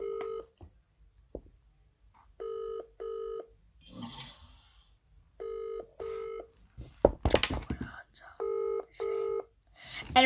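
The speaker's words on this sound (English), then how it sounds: "Let's call one more time." A phone dials out with short, clean keypad beeps grouped in quick pairs, broken by a loud, rough burst of noise midway. More dial tones follow after it.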